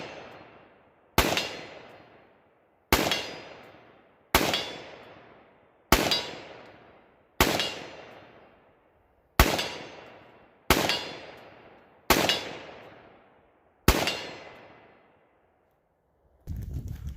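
Rifle shots striking an AR550 steel Armadillo target at short range, ten sharp, loud impacts each ringing off with a decaying metallic tail, spaced roughly one and a half seconds apart.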